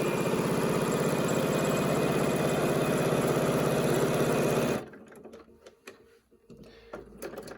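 A sewing machine hems the lining of a pleated face mask, a steady, loud, close mechanical hum for several seconds that stops abruptly, leaving faint handling noises.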